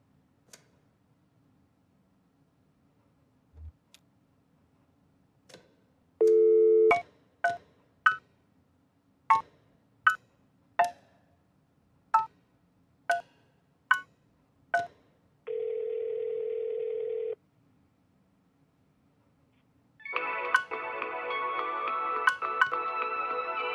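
In the Kentucky Route Zero video game, a telephone line plays a steady dial tone, then about ten crisp, evenly spaced dialing clicks, a short held tone, and finally a louder, harsher continuous signal, all alone without speech.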